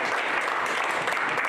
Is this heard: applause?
yes